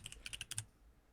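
Quick bursts of crisp clicking keystrokes on a computer keyboard, about seven close taps in a fast rhythm, then quiet; no talk.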